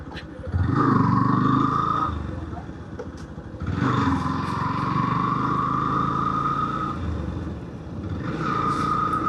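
A motorcycle rides on a broken village road in rural Barisal; its engine drones steadily up close, swelling and easing as it moves over the rough surface, and a voice talks over it.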